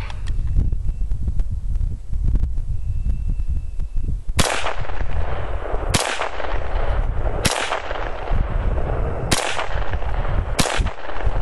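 A CZ858 rifle fitted with a muzzle brake fires five sharp, loud shots outdoors, spaced unevenly about one to one and a half seconds apart, each followed by a short echoing decay over wind-like background noise.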